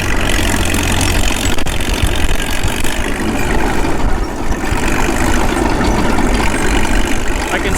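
A Caterpillar D2 crawler tractor engine runs hot at a steady, loud, rough idle with a deep knocking rumble, close by and continuous.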